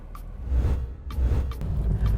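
A Honda Brio RS with a 1.2-liter gasoline engine driving, heard from inside as a steady low engine and road rumble with faint clicks over it.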